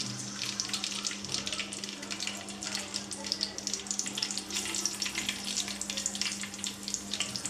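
Green chillies frying in hot oil in a pan, giving a steady, close crackling sizzle with dense hissy spatter that carries on evenly throughout.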